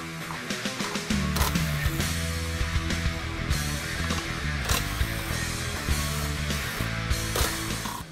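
A ratchet backs out bolts from the spare tire mount on a 2007-2018 Jeep Wrangler, producing busy, close metallic clicking and clanking that runs continuously and loud throughout, with no voices.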